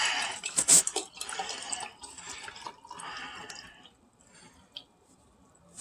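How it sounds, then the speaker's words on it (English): White vinegar is poured into jars of lemon peels, giving a close, splashing liquid pour that trickles and drips, then fades to near quiet before a brief final splash. "white vinegar, and then just pour it in"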